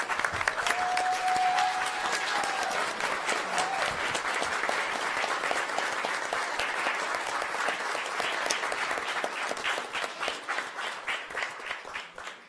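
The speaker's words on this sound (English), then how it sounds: "we stand and give them a round of applause for their heroic efforts" Sustained applause from a standing audience at a city council meeting, steady dense clapping lasting about twelve seconds before thinning out at the end, with no talk over it.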